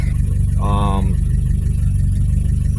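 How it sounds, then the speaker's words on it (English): A 1986 Nissan 720 pickup's carbureted engine idles with a steady, rhythmic low chug close by, while a brief whine rises over it for a moment. "as it gets warmer, the idle speed goes up, and that's annoying"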